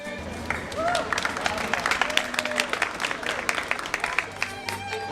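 Street musicians draw applause and cheering from a crowd, steady clapping with shouts and voices mixed throughout, with music faintly underneath.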